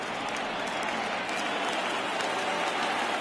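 A baseball crowd rises and cheers on a full count, a dense, steady roar of voices and clapping that fills the whole stretch without a break.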